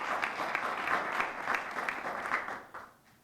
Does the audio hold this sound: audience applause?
yes